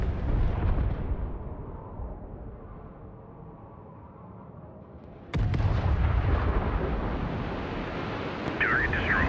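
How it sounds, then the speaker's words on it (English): Bomb explosions and artillery fire in the video game HIGHFLEET: a deep, rumbling blast slowly decaying, then a sudden sharp detonation at about five seconds followed by a sustained heavy roar. "The bomb was deployed at the coordinates."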